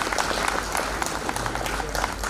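Crowd applauding steadily at a ceremony, dense sustained clapping from many hands at moderate distance throughout the short stretch.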